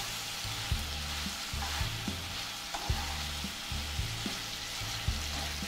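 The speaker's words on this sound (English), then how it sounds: "How long does this have to be frying for?" Steady sizzling of chicken frying in a pan, with occasional clinks and stirring knocks at irregular intervals, close and fairly quiet.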